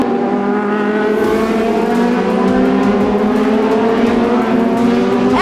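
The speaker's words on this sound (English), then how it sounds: "obviously the sound of the cars" Loud, continuous engine roar of IndyCar race cars speeding by at the Grand Prix of Long Beach, with layered high-revving tones shifting in pitch throughout; no voices.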